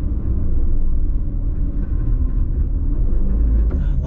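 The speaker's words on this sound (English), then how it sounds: "A lot of wheel spinning" An AWD SUV stuck off-road on rock and dirt in rock-and-dirt mode, its wheels spinning with a loud, steady, deep engine rumble that stays constant throughout.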